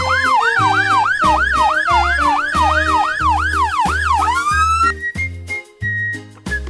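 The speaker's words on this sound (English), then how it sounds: "Here comes the ambulance! Wee-oo, wee-oo!" Loud electronic wail from a toy ambulance siren, rapid repeated two-tone sweeps that glide into a long rising tone, then choppy bursts over a steady low buzz, with no talking.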